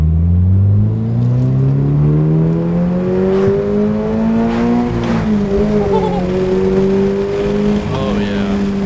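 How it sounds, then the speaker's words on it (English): A 2022 Subaru BRZ fitted with an Invidia N2 catback exhaust revs loudly and close by, its deep engine tone climbing steadily in pitch over several seconds before settling and wavering. "The Catback sounds really nice."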